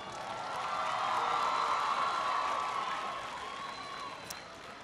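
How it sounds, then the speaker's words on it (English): A large audience at a speech in Alabama applauds and cheers for Ali, a broad, distant wash of clapping and crowd noise that swells for a couple of seconds and then slowly fades. "Can everybody please give Ali a big round of applause"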